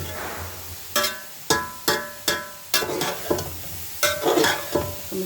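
Grated carrots for gajar halwa sizzle in ghee in a pan, close and clear, while a spoon stirs them in about eight sharp, rhythmic scraping strokes over a constant frying hiss.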